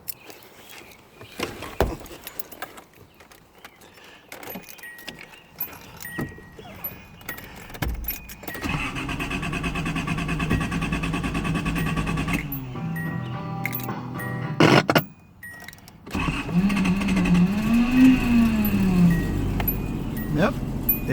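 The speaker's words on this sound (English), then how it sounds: "So we're going to try to start the car." A 1979 Datsun 280ZX on a 48-degree morning with a bad cold start valve and the thermo-time switch disconnected, cranking before the engine catches and settles into a steady idle, with a person talking over it.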